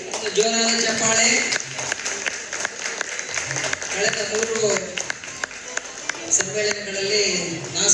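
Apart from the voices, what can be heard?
loud applause from the audience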